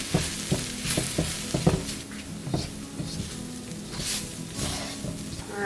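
Mushrooms and onions sizzle in a pan as flour is stirred in, with steady frying hiss broken by repeated scraping stirs and soft clunks of the utensil against the pan, close up and with no talking.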